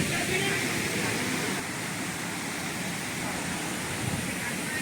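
Floodwater rushing through a gate after two days of rain, a steady loud broadband roar that fills the whole clip with no pause.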